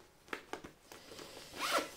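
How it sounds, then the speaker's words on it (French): A zipper on a bag pocket is pulled in several short, close tugs, followed by a longer, brighter zip near the end, quiet and without talk. "Donc là vous en avez une avec la fermeture éclair."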